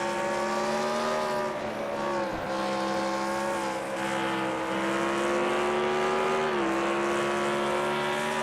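A race car engine in a NASCAR-style racing video game drones at high revs with steady harmonic whine, briefly dipping around shifts and corners, continuous and close throughout without any talk.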